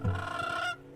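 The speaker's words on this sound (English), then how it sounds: "The player's bird sings to the wild creatures to charm" A player's bird in the video game Flock sings to charm wild creatures, a short, bright honking call with a tonal, slightly nasal quality that cuts off cleanly after a moment.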